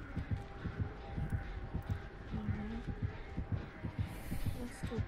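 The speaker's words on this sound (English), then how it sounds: "the heartbeat radius isn't as wide as I thought" The killer's heartbeat in Dead by Daylight pounds as a steady, rapid, low double thump under a droning hum, with faint game sounds over it.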